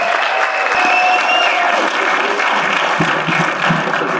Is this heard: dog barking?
no